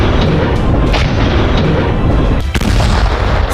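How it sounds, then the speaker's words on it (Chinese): Vehicle-mounted artillery guns fire with heavy booming blasts and rolling rumble, loud and close enough to carry a strong shock, a sharp report near the middle standing out over continuous low roar. "随着火炮发出巨大的轰鸣，站在几十米外，我仍然能够感受到强大的冲击波"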